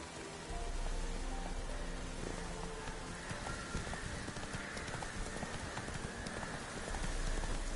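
Roach the horse trots steadily in the rain in The Witcher 3, with even hoof clip-clops under a constant wash of rainfall and a soft low rumble.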